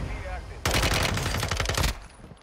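Rapid automatic gunfire in the Warzone video game: a single burst of fast, evenly spaced shots lasting just over a second, loud and close over a quiet background.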